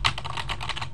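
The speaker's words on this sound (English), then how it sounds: "you can hear me typing" Rapid, close keystrokes clatter on a computer keyboard in a quick, uneven burst of clicks with no talking.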